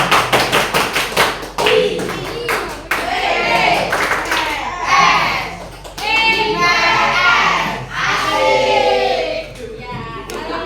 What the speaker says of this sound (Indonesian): Tepuk IPS